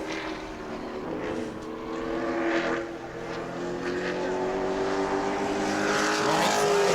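A race car roars past at speed on a sportsman qualifying lap at New Smyrna, its engine pitch rising and falling in a continuous high-revving drone, fairly loud with distant crowd ambience.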